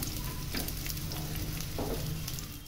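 Onions browning in oil for Hyderabadi bhindi masala sizzle steadily and close, with a couple of soft stirring scrapes and no talking.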